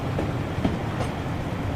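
A British Mk1 passenger coach riding on B4 bogies rolls along the track in Train Simulator 2020, giving a continuous low rumble with faint rhythmic wheel clicks, heard from close by.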